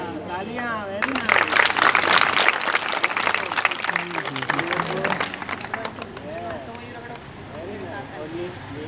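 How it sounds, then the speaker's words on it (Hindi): Applause in a group hand-washing activity, a burst of clapping from children and adults that swells loud for a couple of seconds then thins out under voices and chatter. "तालियां, वेरी नाइस।"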